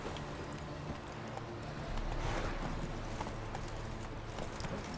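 Roach, a horse in The Witcher 3: Wild Hunt, trots with a steady clip-clop of hooves over a busy background of game ambience and music, moderately loud and continuous throughout.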